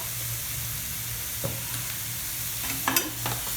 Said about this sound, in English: Just saute them for a couple of minutes more.